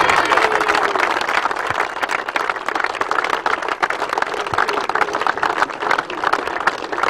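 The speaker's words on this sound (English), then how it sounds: "A big round of applause." An audience applauds at a European father-and-son golf championship, a dense, continuous wash of clapping that stays loud and steady throughout with no gaps.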